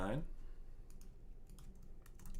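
Someone types on a computer keyboard, a few quick light key clicks in small clusters, faint and close, following a brief burst of a voice at the very start.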